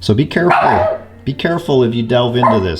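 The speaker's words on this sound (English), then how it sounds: "That's my dog." A pet dog barks and yips at home, with several sharp barks mixed in with someone talking close to the microphone.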